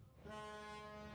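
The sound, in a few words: train departing from Kamalapur station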